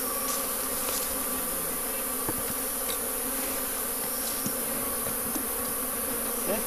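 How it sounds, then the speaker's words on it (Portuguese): A dense swarm of honey bees during a honey harvest buzzes loud and close throughout, a steady, thick drone with individual bees passing near now and then. "É muita abelha."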